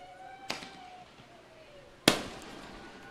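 A firework goes off at a girls' high school soccer senior night. Two sharp, loud bangs arrive about a second and a half apart over quiet outdoor ambience, and the second is the stronger.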